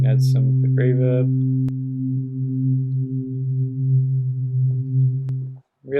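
A synthesized drone with added harmonics and two voices, drenched in reverb, holds steady low tones for several seconds after a brief opening flourish, sustaining alone before cutting off near the end.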